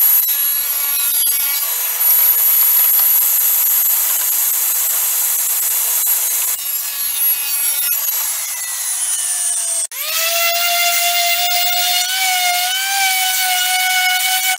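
A saw cuts through a wooden 3/8 inch blank for a storage box, a loud steady high-pitched whine grinding continuously throughout, its pitch dipping as the blade bites harder partway through.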